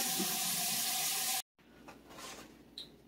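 Running kitchen tap water splashes steadily while potatoes are washed, then cuts off abruptly, leaving faint drips and light handling noises.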